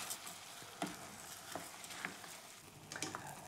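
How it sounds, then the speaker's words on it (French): Rice stirred in a pan for an autumn risotto, soft scraping strokes and occasional clinks over a faint low sizzle, quiet and close with a few distinct spoon hits. "Je mélange."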